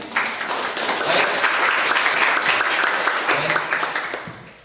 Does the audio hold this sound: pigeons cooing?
no